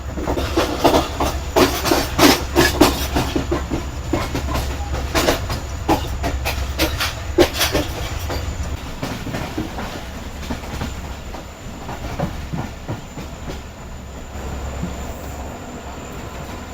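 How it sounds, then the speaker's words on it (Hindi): The Sukkur Express, running from Karachi to Sukkur, pulls out of Digg Road Junction station with rhythmic wheel clacks, brief metallic squeals and a steady rumble that gradually eases, heard close and without talk. "तो दोस्तों 1:27 पर ट्रेन हमारी फाइनली निकल चुकी है डिग रोड जंक्शन रेलवे स्टेशन से।"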